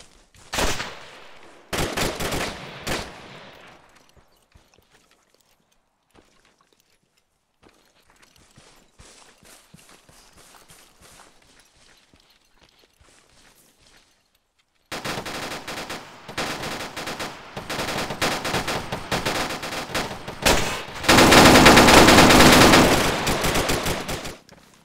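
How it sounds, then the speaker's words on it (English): Bursts of automatic and single-shot gunfire outside a building in ArmA 3 co-op combat, a loud opening volley, then sparse distant shots through a quiet stretch, then sustained heavy fire to the end. "We're still getting a lot of fire outside the building we're in."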